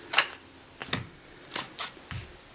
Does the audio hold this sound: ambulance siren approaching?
no